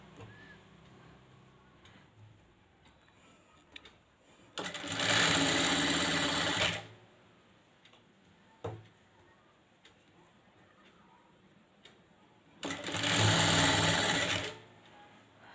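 Sewing machine stitching thread piping in two bursts of rapid, even whirring of about two seconds each, close and loud, with quiet handling clicks and pauses between.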